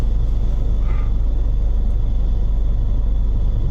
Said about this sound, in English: They sat there, engine running